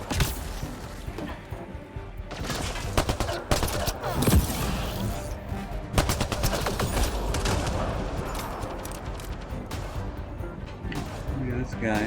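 Gunfire from a space shooter video game pops in irregular volleys with heavy booming hits, loud and close, while a voice talks over the shooting throughout.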